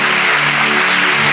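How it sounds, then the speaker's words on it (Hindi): A church congregation breaks into loud, dense applause, the close clapping continuous and even throughout with no talk over it. "तो फिर जोरदार तालियां यीशु के लिए।"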